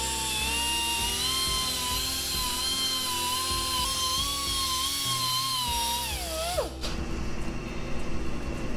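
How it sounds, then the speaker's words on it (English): A belt sander whines steadily while smoothing a steel bicycle quill stem in a framebuilding workshop. Its pitch wavers slightly under changing pressure, then drops sharply near the end as the belt spins down, leaving a rougher, lower noise. "The belt sander, because it's so flexible, it follows the shape and it smooths it all out."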